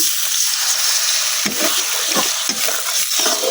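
A splash of water hits ginger, garlic and onion frying in a pan, setting off a loud, steady sizzling hiss with a few scraping stirs over it. No one speaks.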